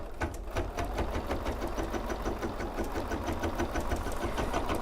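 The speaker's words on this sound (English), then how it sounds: "and I can start to sew" An embroidery sewing machine stitching couched wool with rapid, even mechanical clatter, loud and close, running steadily without pause and with no talk.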